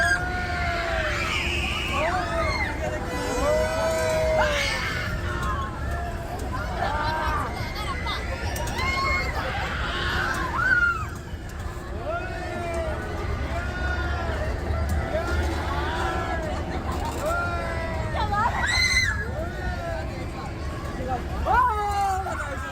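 A crowd screams and shouts on a Break Dance amusement ride at Cubbon Park, a continuous loud babble of overlapping excited voices with rising shrieks and background fairground noise.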